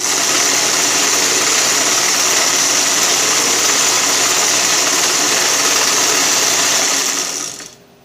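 The chain case drive of a Snapper RER riding mower runs slowly under repair, giving a steady close mechanical whirring and rattling hum that cuts off abruptly near the end.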